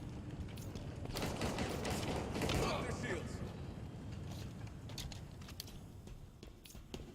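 Rapid video game gunfire from a commando's weapon fighting brutes crackles in dense bursts, loudest around the middle and fading toward the end, with a voice talking faintly underneath.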